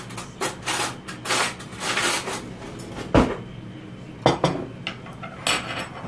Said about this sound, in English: I'll get you a spoon.